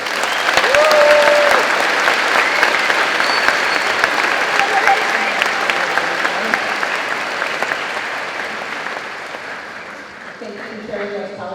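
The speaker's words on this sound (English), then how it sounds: "Let's give them a round of applause." Graduating class at a high school commencement ceremony receives sustained applause from a large audience. Dense clapping stays steady for the whole stretch and thins toward the end, with faint crowd murmur beneath it.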